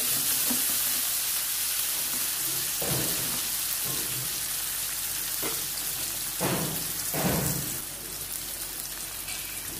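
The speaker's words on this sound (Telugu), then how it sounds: "దోరగా వేయించుకోవాలి." Chopped onions, green chilies and curry leaves fry in hot oil for an aloo methi curry, giving a continuous crackling sizzle broken by several soft, dull knocks as the pan is stirred, with no voices.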